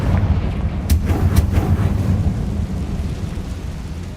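A Confringo blasting spell in a Harry Potter video game goes off as a pair of quick booming bursts over a steady, thunder-like rumble that rolls on for several seconds.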